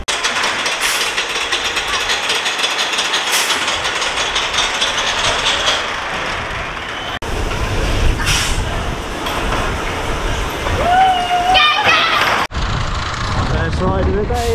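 Clattering, ratcheting machinery and rumbling rail noise from the Mine Train roller coaster at Funland Hayling Island, with wind rushing and occasional squeals as the cars move along the track.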